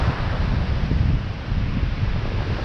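Strong wind blows steadily at a remote beach, a loud, dense roar buffeting the microphone with a faint wash of surf underneath and no voices.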